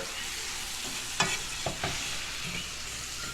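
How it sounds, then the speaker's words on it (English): Fish and banana pieces stirred in a cooking pot, a steady low sizzle underneath with a few soft scraping strokes of the spoon, close and fairly quiet. "we'll just give this another stir"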